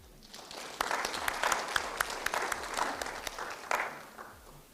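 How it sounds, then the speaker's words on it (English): A political gathering's crowd breaks into applause, starting quietly then swelling into a moderately loud, sharp clatter of many hands with crisp individual claps, tapering slightly near the end. "We need to clap for Gen Z."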